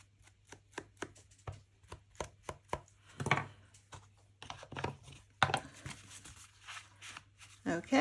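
Cut paper edges of a handmade notebook insert are distressed with a series of sharp, rhythmic scraping strokes, close and fairly quiet, with brief pauses and a few longer rasping passes.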